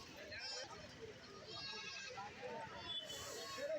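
Goats, including black bucks, at a busy goat market in Kerala: faint bleats mixed into crowd chatter and someone talking close by, with a low background din.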